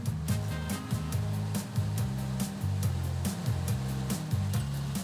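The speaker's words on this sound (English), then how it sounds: "special fans vacuum out any leaves and branches" Fans on a citrus harvesting machine vacuum leaves and branches from picked fruit, a loud, steady roaring blow with a low, pulsing mechanical drone beneath it.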